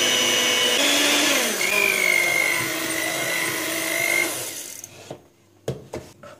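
An electric mixer whirs steadily through sponge-cake batter mixed with baking powder, then stops, leaving a few sharp knocks and clicks.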